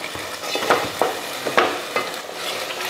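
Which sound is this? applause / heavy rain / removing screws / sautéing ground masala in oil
sautéing ground masala in oil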